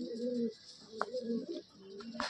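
Aggressive Madrasi pigeons at a loft in Barasat coo in a series of low, soft, throaty calls, close by and repeating over steady background hiss.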